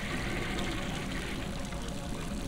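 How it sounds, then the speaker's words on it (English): Running water in a video game, a steady, dense pouring and splashing wash that stays constant and fairly loud throughout with no talking. "That's running water too, though."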